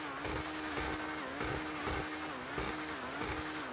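Steady engine drone from an Emerus supercar in GTA5, a continuous mid-pitched hum with slight pulsing revs, close and fairly loud throughout, no talking.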